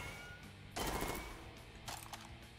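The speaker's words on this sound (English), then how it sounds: "So I'm going to start shooting off the machine gun more." Two short bursts of rapid machine-gun fire come from the Jupiter Hell rogue-like video game, the first longer than the second, both fairly quiet over a steady low background.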